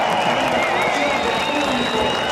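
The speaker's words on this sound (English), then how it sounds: "Max Günther wants to hear the crowd cheer" A crowd cheering at the 2020 Santiago E-Prix Formula E race, a dense, loud, sustained roar with a commentator's voice over the top.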